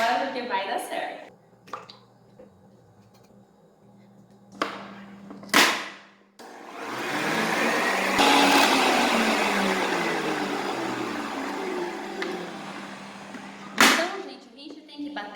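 An electric stand mixer beats eggs, margarine and sugar in a steady whirring drone through the middle stretch, with a person talking before and over it and a few sharp knocks.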